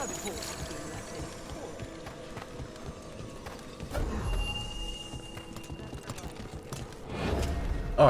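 Horse hooves clip-clop beneath a soft whinny in Dragon Age: The Veilguard, heard in the game's background amid ambient sound and a spoken voice, with a louder thud of movement near the end.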